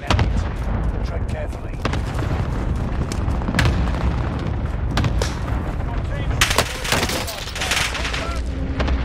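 Rocket launcher explosions and gunfire in a video game: loud, dense booms and sharp bursts come in rapid succession across the whole stretch, with heavier blasts clustered toward the end.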